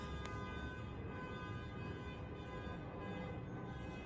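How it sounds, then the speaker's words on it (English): Vehicle horns honk outside as a continuous, fairly distant blare of tooting horns and traffic noise, steady throughout with no talking. "with this honking right now."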